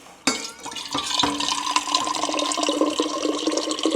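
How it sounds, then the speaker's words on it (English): Water runs from a tap into a water bottle, starting with a sharp splash and then a continuous rushing pour whose pitch shifts as the bottle fills, close and fairly loud. "Let me fill my water bottle really quickly."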